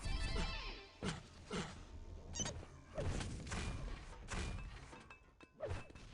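Grenades exploding in a Quake freeze tag match, a series of heavy thuds and booms spaced irregularly, mid-level and alone.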